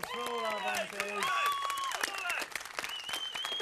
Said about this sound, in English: Round of applause for all our volunteers.